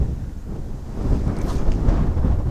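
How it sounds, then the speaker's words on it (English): Strong wind buffets the microphone beside a near-frozen river, a steady low roar with gusty swells that grows louder in the second half, with no talking. "It's really windy, guys."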